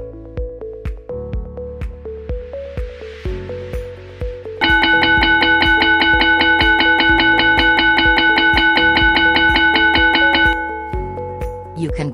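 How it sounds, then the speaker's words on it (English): Electronic bell timer ringing for lunch time: a steady, loud, buzzing bell tone rings continuously for about six seconds, preceded and followed by a plucked melodic tune. "You can connect multiple ringing devices externally to this bell timer."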